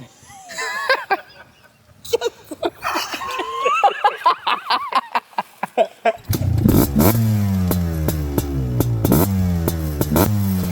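Midsize quad ATVs launch in a drag race, engines revving hard and climbing through the gears loud and close after a countdown shouted over idling, with excited voices before the run.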